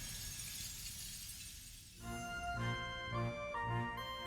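Shattering effect in a Street Fighter 6 teaser for the character Ingrid: a crisp glassy burst after a hissing build, followed by ringing tonal shimmer and deep rhythmic pulses, moderately loud with no talk.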